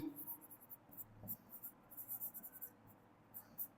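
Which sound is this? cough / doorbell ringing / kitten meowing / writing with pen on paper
writing with pen on paper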